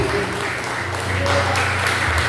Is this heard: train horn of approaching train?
no